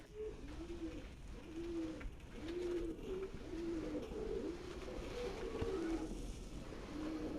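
A flock of pigeons coos in a derelict movie theater, the rhythmic, rolling calls repeating every second or so in a close, continuous chorus that fills the empty hall.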